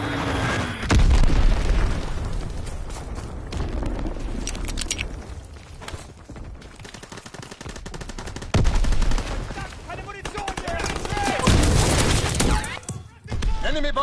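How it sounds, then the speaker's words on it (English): Heavy, booming bomb explosions in Call of Duty strike several times, thudding through dense, continuous machine-gun and rifle fire that fills the whole stretch of the firefight. "Enemy bomb incoming! Get to cover!"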